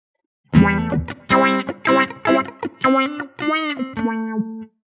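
Electric guitar run through a Meris LVX delay pedal with a low-pass filter effect, playing a sequence of bright, sustained notes with a chewy, resonant filtered tone, each note swelling and decaying in turn.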